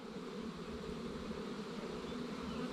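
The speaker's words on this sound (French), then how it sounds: "les abeilles vont rentrer tranquillement." A swarm of honeybees entering a small hive box makes a steady, dense buzzing drone throughout, moderately quiet and even, with no voices.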